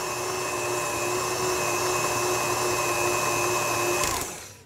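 An electric mixer whirs steadily, loud and close, blending ground biscuits into a chocolate biscuit cake batter, then winds down and stops near the end.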